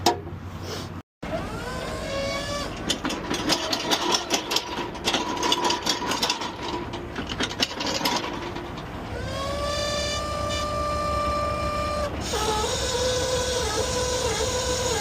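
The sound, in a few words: car hauler hydraulic cylinders operating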